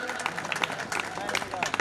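An audience at a Hindi poetry recital gives a brief, fairly faint burst of clapping, heard under a murmur of crowd noise.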